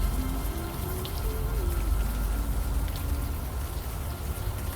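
Steady rain patters in the game Unavowed, a dense continuous hiss of drops with a faint low tonal line underneath and no speech.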